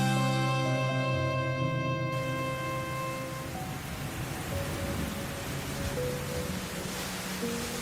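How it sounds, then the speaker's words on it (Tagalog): Steady rain falls in a dense, even hiss that continues unbroken, while a tonal sound fades out at the start. "Inabutan ka na ng ulan"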